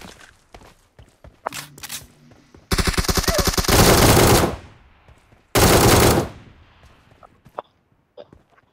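Bursts of rapid automatic gunfire in a shooting video game, two long sustained volleys with scattered single shots and clicks between, loud and close.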